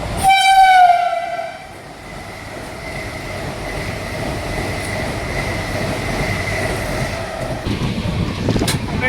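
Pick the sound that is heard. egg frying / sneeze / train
train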